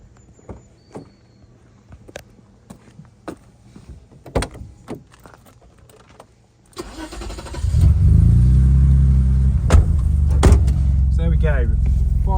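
A BMW E24 coupe's M90 straight-six cranks and fires up, then settles into a loud, steady idle close by, with door and cabin clicks and knocks beforehand and people speaking throughout.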